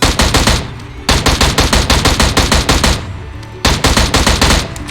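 An M16 rifle fires on full auto in a video game: three long, loud bursts of rapid shots, separated by brief pauses, with no talk.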